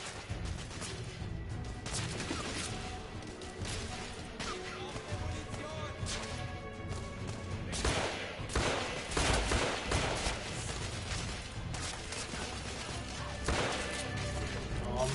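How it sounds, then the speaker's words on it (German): Gunfire crackles in rapid, dense bursts throughout a firefight in the game The Order: 1886, loud and sustained with sharp impacts, while someone talks over it. "Unter schwerem Beschuss!"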